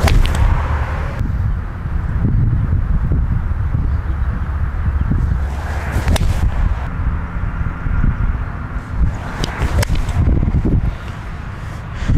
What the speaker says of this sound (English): I'm going to hit my traditional 4-iron, and let's see what happens.